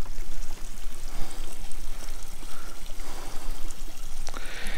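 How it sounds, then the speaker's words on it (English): Hot spring water flowing out of a soaking tub at Alkali Spring, Nevada: a steady, close rushing and splashing stream, continuous throughout with slight surges and no talk. "And it's got some pretty good water running out of it."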